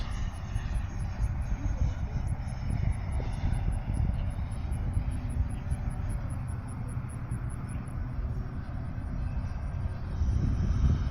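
An FMS Futura 64mm EDF model jet flies past, its ducted fan giving a steady, continuous whine and roar at moderate distance, rising slightly louder toward the end.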